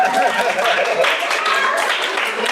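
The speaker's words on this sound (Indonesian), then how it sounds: "Oke, tepuk tangan buat kita semua" A group claps together in a steady, dense burst of applause, with voices mixed in throughout.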